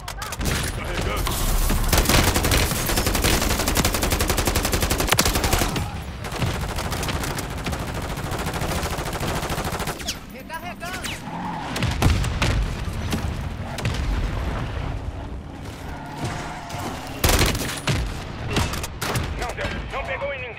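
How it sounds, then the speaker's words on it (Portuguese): Continuous barrage of explosions and gunfire in Call of Duty: Modern Warfare III as a mortar strike comes in, dense booms and crackling shots filling the whole stretch, loud and chaotic, with in-game voices calling out. "Ataque de morteiro chegando."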